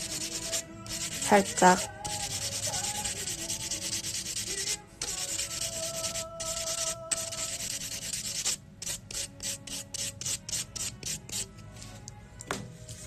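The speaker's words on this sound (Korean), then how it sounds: "미경을 한번 닦고 샌딩 한번 해줄게요." A gel nail surface being sanded before painting, with scratchy rubbing strokes near the mic, first steady, then short quick rhythmic passes. A voice speaks briefly.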